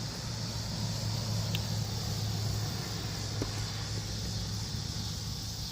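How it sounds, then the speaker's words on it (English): Steady traffic noise from cars driving past a cemetery, a continuous low rumble with no single pass standing out, moderately distant and without talk. "noisy with the cars"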